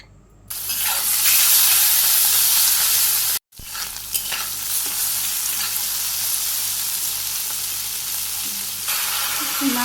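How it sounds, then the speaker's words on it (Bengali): Oil heating and frying hard in a kadai, giving a loud bright steady sizzle. It cuts out for a moment, then resumes at a slightly lower level and crackles on to the end. "কড়াইতে তেল দিয়ে দিলাম।"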